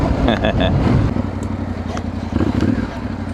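A KTM motorcycle arriving at a roadside meeting point: a rough engine note with clattering that idles and putters close by, a few brief revs, with no talk over it.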